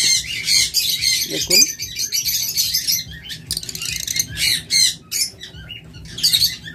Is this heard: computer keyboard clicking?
no